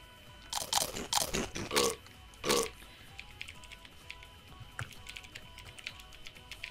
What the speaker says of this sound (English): Sorry if my keyboard's super loud and you guys don't like it.